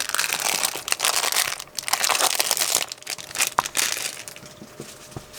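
Paper rubber stamp package envelope torn open and crumpled by hand, loud close crinkling and ripping bursts with brief pauses, no talk.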